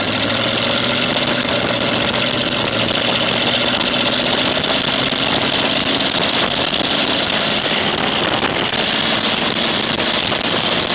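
Engine of a homemade halftrack chassis running steadily as it drives up a runway, a continuous loud mid-pitched drone with no pauses.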